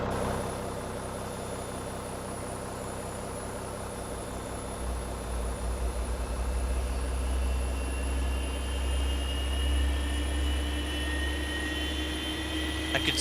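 A simulated Boeing 737's number 2 engine spools up in a flight simulator, a low rumble swelling midway while a rising whine climbs steadily toward idle.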